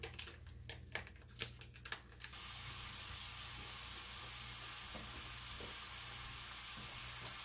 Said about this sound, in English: Now in this same pan, I'm going to do up the sausage